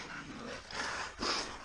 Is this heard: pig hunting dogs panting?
yes